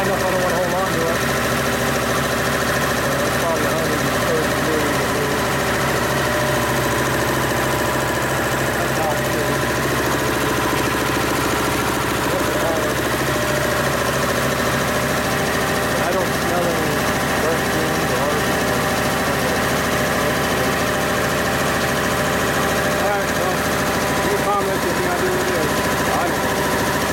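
A Dayton 240V 7.5 hp shop air compressor runs loud and steady, its motor and pump drone with rhythmic knocking pulses continuing throughout, without pause or speech.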